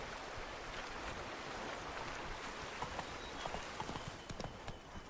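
The horse Roach gallops in the Witcher 3 video game, with a rapid, continuous drumming of hoofbeats over a rushing, wind-like wash. The sound is moderately loud and carries on throughout.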